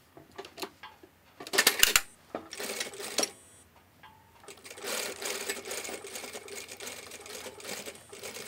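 Sewing machine stitching a back tack on a belt loop, several short bursts of rapid mechanical whirring that stop and start, then a longer steady run, close and clear with no talk.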